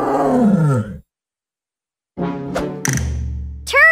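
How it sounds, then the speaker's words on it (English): A tiger roars loudly and close in a deep drawn-out growl, falls silent for about a second, then gives further rough grunting roars and snarls. "Tiger."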